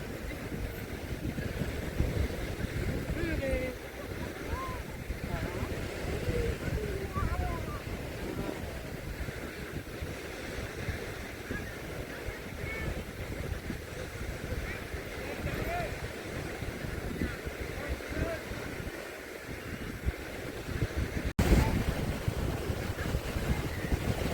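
Boat engine and wind rumble steadily across the sea off Miramar Beach, Goa, with waves washing and faint voices murmuring in the background throughout.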